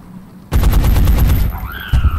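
Gunfire in the video game XCOM: Enemy Unknown: a loud, close burst of rapid rattling shots lasting about a second, followed by a brief mechanical tail and a final sharp report.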